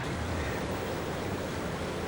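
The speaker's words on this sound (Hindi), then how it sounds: "यार ये झरना तो बहुत डरावना" Continuous loud rush of water from a waterfall, a dense, even roar filling the whole stretch with no voices.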